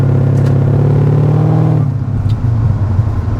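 A 2012 Corvette Grand Sport with a Lingenfelter supercharged V8 and open exhaust rumbles loudly close by, a steady deep drone that drops into a lumpy burble as the throttle eases off.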